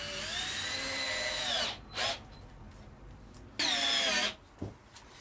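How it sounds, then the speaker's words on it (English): A power drill driving screws into a Peugeot Boxer van whines in a long high burst, pauses with brief short revs, then whirs again in another sustained burst before stopping. "I'm gonna go ahead and drill in some screws"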